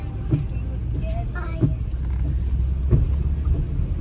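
Road traffic: cars pass by at moderate distance under steady low road noise, with a few brief swells and clicks as vehicles go past, and faint talk in the background.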